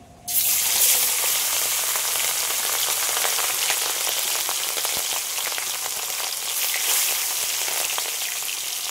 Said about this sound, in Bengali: তেলটা তো গরম হয়ে গেছে, এবার মাছ ভেজে নেব।